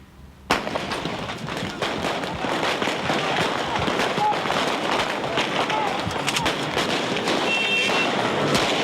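Gunfire from live ammunition at a street protest in Indonesia, with dense crackling shots starting abruptly and continuing through a noisy crowd, loud and sustained under shouting voices.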